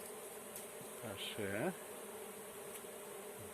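Honeybees kept by a Romanian beekeeper buzz close and steady, with a brief louder swell midway and a short spoken word.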